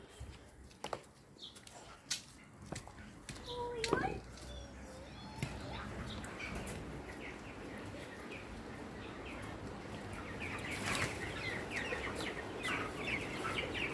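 Chickens cluck and chirp close by, scattered calls rising over a busy background of shuffling and movement, with a voice speaking briefly.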